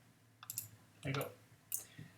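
Computer mouse clicks during chair modelling in Fusion 360 software, three short close clicks spaced about half a second apart, quiet against room background.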